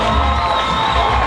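A ballpark crowd in Victoria roars after a grand slam at a HarbourCats summer-league baseball game, a loud, sustained wash of cheering and whoops filling the whole short moment.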